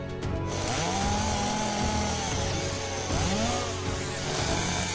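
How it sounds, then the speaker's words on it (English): A revving chainsaw in the video game Rebellions: Secret Game, its engine whine rising and falling in pitch through repeated swings, loud and continuous with no talking. "The maid swung her chainsaw before Rei had a chance to put some distance between them."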